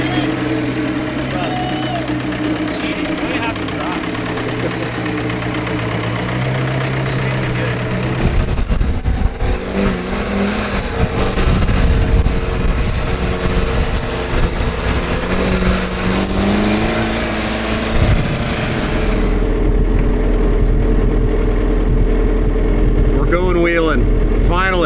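A Suzuki Samurai buggy engine runs loud and close while the vehicle drives, a continuous rough drone that deepens and roughens partway through as it pulls harder, with rattling and a low rumble underneath.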